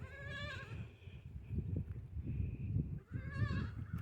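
A goat bleats twice, wavering cries at the start and near the end, with low shuffling and rustling noises in between.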